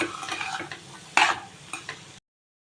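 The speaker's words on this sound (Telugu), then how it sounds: "మధ్య మధ్యలో కలుపుకుంటూ ఉండాలి లేకపోతే కింద మాడిపోతుంది" A carrot and beetroot fenugreek curry is stirred in a pan, giving a few scraping, shuffling strokes of the spoon over a light sizzle, with one louder scrape near the middle, then abrupt silence.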